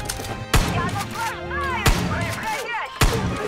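Three sharp, loud gunshots ring out about a second apart, each a close cracking report over a busy background of voices and warbling tones.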